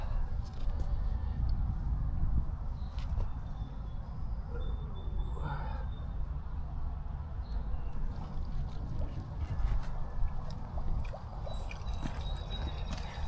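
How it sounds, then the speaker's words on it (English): An 880 gallon per hour water pump runs a backyard bird spa with a steady outdoor wash of flowing, trickling water and a low continuous rumble. Faint distant birdsong chirps float above the constant stream. "So the pump I got was an 880 gallon per hour, which is way more than enough."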